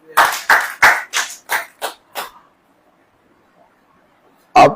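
A group claps in unison at a birthday gathering held with prayer and a meal: seven sharp, evenly spaced claps close by, a pause, then one final clap.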